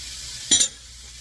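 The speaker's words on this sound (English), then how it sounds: "I'm going to add the Brussels sprouts." A brief sizzle and stirring scrape as Brussels sprouts and other vegetables hit a hot skillet for shrimp fried rice, a short bright burst over a quiet kitchen background.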